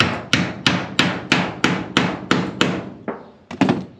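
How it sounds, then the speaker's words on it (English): A hammer strikes a screw to start it into a tin sheet on a trough, about ten sharp metallic blows in a steady rhythm, loud and close, with no talking. "I'm going to start this thing with my hammer"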